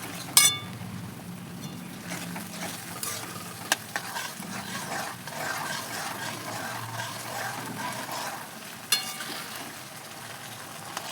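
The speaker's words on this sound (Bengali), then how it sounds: "এবার আমি আদা রসুনের পেস্টটা ঢেলে দেব।" Ginger garlic paste sizzles in a pan over softened onions for a thin chicken curry, a steady close fry broken by occasional sharp clinks of a spoon stirring against the pan.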